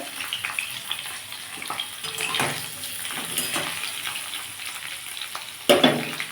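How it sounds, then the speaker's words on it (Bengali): Cauliflower florets frying in a pan for a cauliflower, potato and green pea curry give a steady, close crackling sizzle, with soft stirring scrapes and a sharper burst of sizzle near the end. "এদিকে ফুলকপিটা ভাজা হোক"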